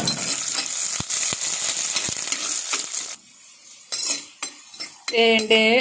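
Ginger, garlic and shallots are sautéed in a pan for a Kerala fish curry. A spoon stirs and clinks against the metal over a soft sizzle, with a sharper clatter of utensils and pan near the end.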